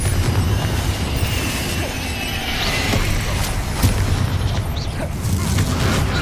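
Fiery Confringo spell blasts in the wizarding game Hogwarts Legacy, a dense, continuous roar of booming explosions and crackling bursts running loud and steady throughout, with heavy low rumble and occasional sharper pops.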